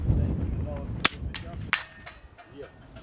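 Two sharp rifle cracks ring out about a second apart at outdoor target practice, each followed by a brief echo, with faint outdoor background noise between them.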